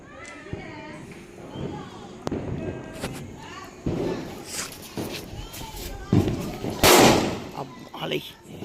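Diwali firecrackers burst in several sharp, loud cracks and thumps at a festive outdoor celebration, with the biggest blast near the end, amid background chatter and voices.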